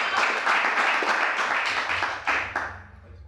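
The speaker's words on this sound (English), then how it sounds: "let's give him a great round of applause" An audience applauds for a poet at a poetry reading, a dense wash of clapping that holds steady and then thins out and fades toward the end.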